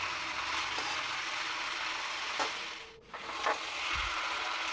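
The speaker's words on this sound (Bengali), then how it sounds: "সমস্ত তেলের মধ্যে মাখিয়ে নিতে হবে, হালকা করে নাড়াচাড়া করে করে।" Food being stirred gently in oil in a pan over a very low gas flame, giving a steady close sizzle with occasional soft scrapes of the spoon and a short dip midway.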